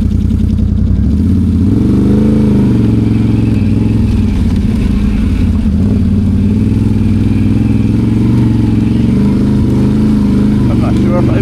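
An ATV on a trail at Renfrew, Nova Scotia: a loud, close engine running continuously, its pitch rising and falling as the machine accelerates and eases off, with occasional clatter and a rider talking over it.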